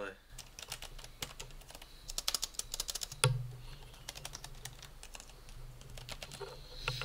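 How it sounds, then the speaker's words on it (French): Rapid clicking of the mechanical key switches on an MSI Titan GT gaming laptop's SteelSeries keyboard, close and crisp, with uneven bursts and brief pauses. "Pour ceux qui voudraient écouter le bruit des touches justement euh, de, du clavier de chez SteelSeries"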